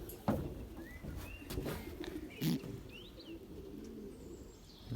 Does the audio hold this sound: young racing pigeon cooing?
yes